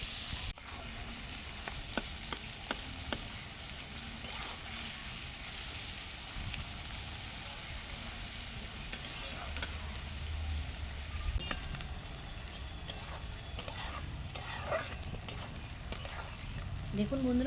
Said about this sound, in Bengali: সামান্য পরিমাণে নুন দিয়ে পেঁয়াজটাকে ভেজে নেব